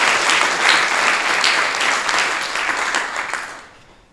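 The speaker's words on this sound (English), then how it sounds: "A shout out and a round of applause for Rachel for coming up here." A live studio audience claps loudly and evenly for a guest at a personal finance talk show taping, the applause holding steady for a few seconds and then tapering off.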